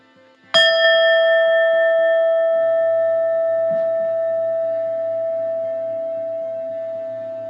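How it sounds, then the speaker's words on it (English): A meditation bell is struck once, a bright metallic strike followed by a long, pure ringing tone that slowly fades over several seconds while a soft low hum sits underneath. "The sound of the bell"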